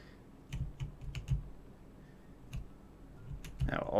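Computer keyboard keys are pressed in scattered, faint clicks and thumps during FNaF World gameplay, some singly and some in quick pairs, over a low background hum.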